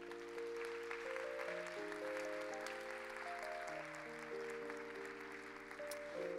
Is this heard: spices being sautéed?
no